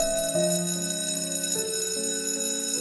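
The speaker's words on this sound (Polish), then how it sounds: "proszę pani, dzwonek był" A school bell rings as a steady electronic chime of a few stepped tones, moderately loud and sustained, with no talk over it.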